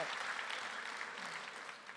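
Audience applause at a Voices for Gaza panel event, a faint, steady patter of many hands that fades slightly over its two-second span, with no talk over it.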